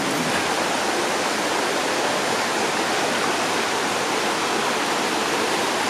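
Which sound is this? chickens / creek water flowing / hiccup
creek water flowing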